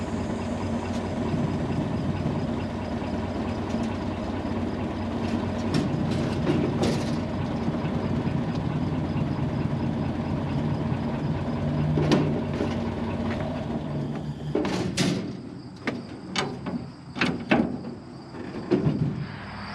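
A 1929 Ford Model A (AA) truck, revived after decades of sitting, runs steadily under its own power around a yard, its engine a continuous rumble with clanks and rattles, then easing off into sparser knocks and bursts near the end.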